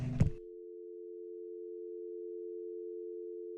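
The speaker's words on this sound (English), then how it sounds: "the phone would disconnect for a final time" A phone call cutting off: a brief click of handset noise, then a steady, unbroken electronic tone held for several seconds, clear and alone.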